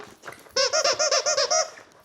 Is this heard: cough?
no